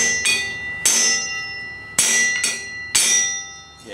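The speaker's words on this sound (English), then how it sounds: "I'm gonna try a couple of good taps with the ball peen and" Four sharp metallic taps of a ball peen hammer on an axle nut during a rear suspension teardown, each strike ringing out bell-like and decaying, spaced unevenly about a second apart.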